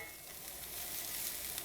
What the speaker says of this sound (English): I am going to add the garlic, and Sammy says to cook that for just under